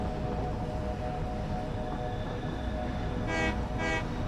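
A train rolls along a railway in the video game Satisfactory, a steady, loud rumble with two short horn-like tones near the end.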